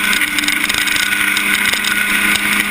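A historic Formula Ford racing car at full throttle around the Thruxton circuit, its engine a loud, sustained high-pitched buzz without letup.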